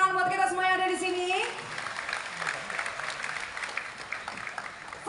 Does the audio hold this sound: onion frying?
no